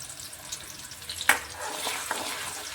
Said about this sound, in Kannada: ಸ್ವಲ್ಪ ಎಣ್ಣೆ ಒಳಗೆ ಟೊಮೊಟೊ ಮತ್ತು ಈರುಳ್ಳಿ ಬೆಳ್ಳುಳ್ಳಿ ಅದು ಫ್ರೈ ಅಲ್ರಿ